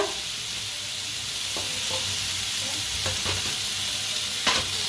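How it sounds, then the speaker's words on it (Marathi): Onion, tomato, garlic, ginger and chillies frying together in a pan, a steady bright sizzle with a few soft stirring knocks and scrapes. "लसूण बी टाकूया, ह्याच्यातच भाजून घ्यायचं आहे।"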